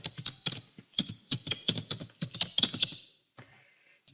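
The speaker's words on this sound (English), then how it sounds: "I'm gonna type in my password in here." Password being typed on a computer keyboard: a quick, close run of crisp key clicks for about three seconds, then a pause and a couple of final taps.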